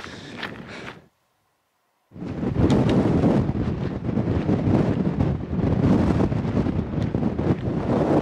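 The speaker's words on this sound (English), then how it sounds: "That wind is a bit fresh." Strong wind roars across a mountain summit path on Ben Rinnes, a loud steady buffeting rush that briefly cuts out for a second of near silence, then returns fully and keeps blowing.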